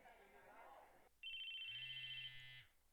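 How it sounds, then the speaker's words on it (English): Electronic phone ringtone from the visual novel game Chaos;Head Noah, a steady high trilling tone sounding alone for about a second and a half after a burst of noise, with a low buzzing vibration joining beneath it. "why was it playing the ringtone when I'd set it to vibrate?"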